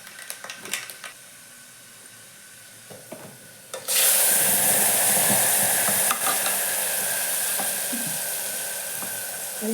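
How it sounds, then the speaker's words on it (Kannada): Spices such as cumin, mustard seed and garlic hit hot oil for a tempering, first with a few faint clinks, then a sudden loud, sustained sizzle that stays close and steady to the end. "ಈಗ ನೋಡ್ರಿ, ಸಾರಿಗೆ ಒಗ್ಗರಣೆ ಕೊಡ್ತೀರಿ."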